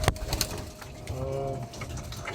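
Pigeons coo in a loft during a fun race, several overlapping low throaty coos with faint rustling and chirps close by, moderately loud with no talking.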